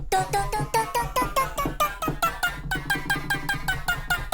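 Short chopped vocal snippets repeat in a quick rhythmic pattern, pitched and stuttering, at moderate volume with a soft low pulse underneath.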